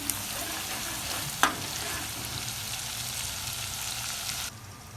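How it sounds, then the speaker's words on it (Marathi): Onions being sautéed in a pan for a chicken dish, a soft continuous sizzle close by with one sharp utensil knock partway through, dropping quieter near the end. "कांदा चांगला असं परतून घ्यायचा"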